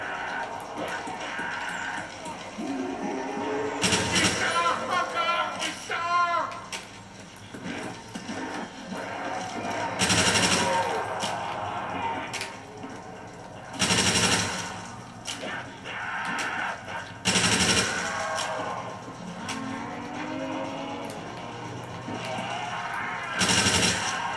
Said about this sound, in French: Je tire dans le mur, super.